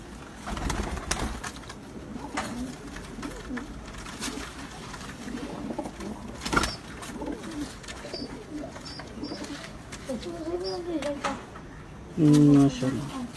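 Breeder pigeons cooing in a loft kept by a pigeon fancier: low, soft rolling coos repeat near and far beneath someone talking, with a louder, close coo near the end.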